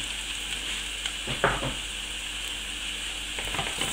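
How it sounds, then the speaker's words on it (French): Garlic and paprika frying in a pan for a sauce, a steady close sizzle throughout with a few soft scrapes of stirring layered over it. "je vais faire prendre la couleur pendant 30 secondes, pas plus, parce qu'après l'ail devient amer en grillant"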